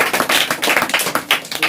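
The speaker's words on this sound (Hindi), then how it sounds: "तो सुजय जी के लिए थोड़ा ताली" A small group claps briefly for a contestant on a Hindi quiz show, giving quick uneven bursts of close, loud hand claps in ragged rhythm.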